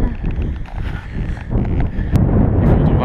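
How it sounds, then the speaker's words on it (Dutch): Wind gusts rumble into a microphone outdoors on a ride around Wageningen near the Nederrijn bridge, a loud, close, buffeting roar that swells and dips throughout. "Het is gewoon de wind."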